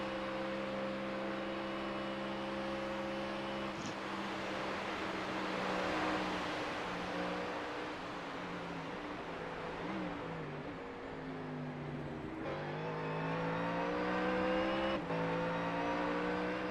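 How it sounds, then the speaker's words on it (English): A Ford Mustang race car's engine roars loud and steady in an iRacing endurance race at the Nürburgring, with harmonic drone rising and falling through gear changes, cutting briefly around the fourth second and again near twelve and fifteen seconds. "The Mustang's incredibly loud."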